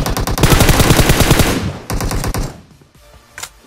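Rapid automatic gunfire from a mobile shooter game while flanking and shooting an enemy, a loud close burst of about one and a half seconds, then a shorter burst after a brief gap, and a single faint shot near the end.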